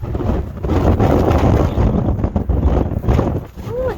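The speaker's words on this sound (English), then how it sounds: "Ooh, it's windy." Strong wind buffets the microphone in a winter snowstorm on a farm, a loud continuous roar with gusts across the whole clip.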